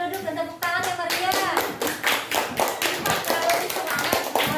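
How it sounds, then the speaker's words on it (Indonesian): A classroom group claps in quick rhythmic bursts as a lesson begins, loud and close, with voices and shouts mixed into the clapping. "Silahkan duduk dan tepuk tangan ya Maria"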